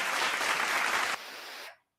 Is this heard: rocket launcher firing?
no